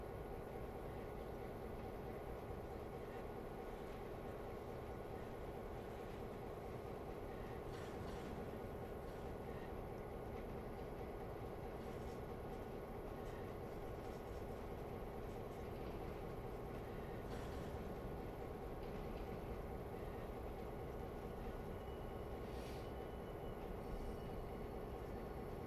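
A train runs steadily through a Railroader video game scene, a continuous low rumble with faint rail squeal and no talk.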